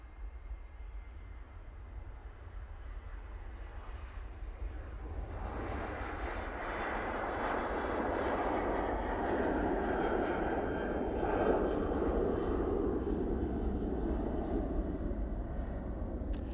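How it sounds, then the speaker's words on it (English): Ryanair Boeing 737-800 jet airliner departing Manchester Airport, its engine roar heard from a distance, building gradually and swelling to a broad sustained rush before easing slightly, with no talk. "Ryanair 737-800 going off to Milan."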